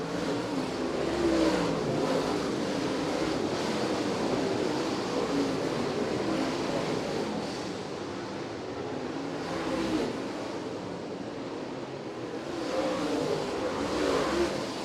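Late model race cars circling Merritt Speedway, a sustained roar of several engines at close range that swells and eases as the pack passes, no talk over it.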